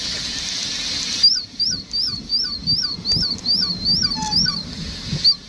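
Seagulls call in a fast run of sharp, repeated squeals near a library outdoors, fairly close and loud over a low background rumble.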